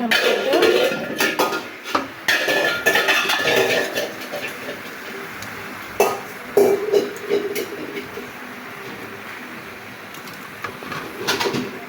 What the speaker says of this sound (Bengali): তোমার ছোটো মেয়ে দেখুন এখন হাঁড়ি পাতিল নিয়ে বসেছে